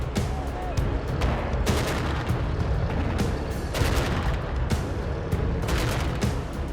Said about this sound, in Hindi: धमाकों से धरती कांप रही है